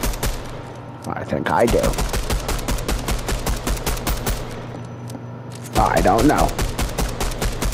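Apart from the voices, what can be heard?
gunfire in DOOM video game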